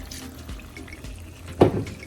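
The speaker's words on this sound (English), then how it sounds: "Now that we added the chicken, I'm going to go ahead and add water." Water is poured into a pot of Nigerian stew with chicken, a short splashing burst near the end following quieter kitchen sounds.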